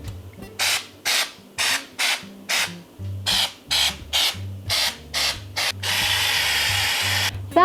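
A can of white spray paint hisses onto a Christmas tree in a rapid series of short bursts, about a dozen close, sharp sprays with a faint mechanical rattle between them, ending in one longer continuous spray.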